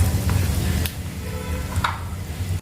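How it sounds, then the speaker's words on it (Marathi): Close, bright sizzle with scattered sharp crackles and pops of cumin seeds frying in hot oil, a few louder spits standing out. "जिरे छान तडतडायला लागले की यामध्ये पाव चमचा हिंग घालूयात"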